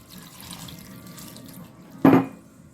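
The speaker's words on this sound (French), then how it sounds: "Mettez de l'eau tiède." Lukewarm water pours into a bowl of flour for Algerian bread dough, a soft trickle that swells into a brief, louder splash near the end, close by with no voices.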